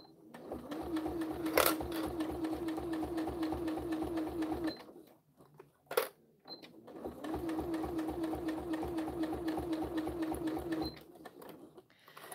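A sewing machine stitches binding onto a diagonal zippered pouch in two long steady runs of rapid mechanical whirring, broken by a short pause with a sharp click.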